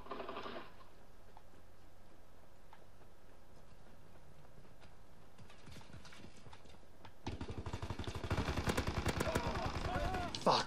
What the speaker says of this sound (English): Somebody's shooting grenades at us.